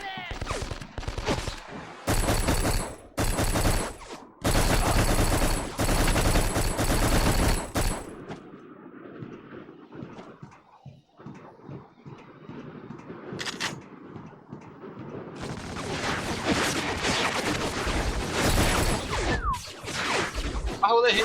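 Bursts of automatic gunfire in a multiplayer shooter game come in dense volleys over the opening seconds, fade to a quieter stretch, then return as sustained loud firing near the end, with people talking between the shots.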